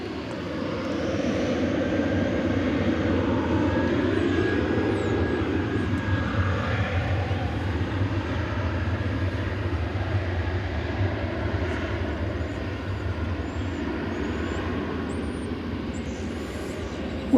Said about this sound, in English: we have this American Airlines Flight 1811 about to lift off for Omaha, Nebraska. It's an Airbus A320.